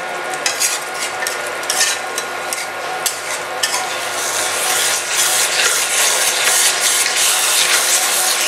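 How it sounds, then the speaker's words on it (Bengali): Yogurt eggplant (doi begun) cooking in oil in a pan over low heat, stirred along the bottom with steady scraping strokes over a continuous loud sizzle, no voices. "তলাটা যাতে না লেগে যায় তার জন্য তলাটা একটু নেড়ে দিই"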